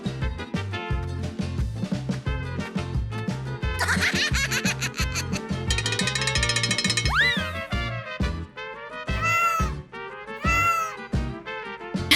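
A toy farm animal plays electronic sounds: repeated cartoonish meows mixed with giggling effects and bouncy music, loud and continuous with no talking.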